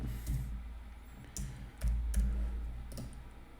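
Keys tapped on a computer keyboard while entering values into 3D simulation software, a few separate clicks at close range with short pauses between them, no talking.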